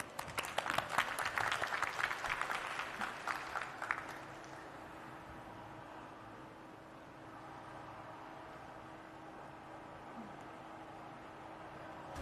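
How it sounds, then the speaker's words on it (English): Audience applause at a startup competition's grand finale welcoming the first finalist, a dense burst of clapping for about four seconds that quickly dies away into quiet room hum. "let's give them a big round of applause"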